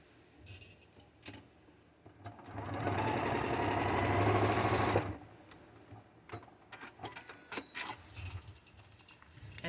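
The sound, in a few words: sewing machine stitching paper piecing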